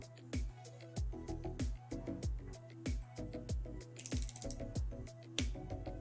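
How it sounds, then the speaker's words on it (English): An adjustable torque wrench is pulled up to a 12 newton-metre setting, with rapid mechanical ratcheting clicks rattling in an uneven rhythm close by, followed by a sharper burst of clicking. "So we'll pull up till we hear a click"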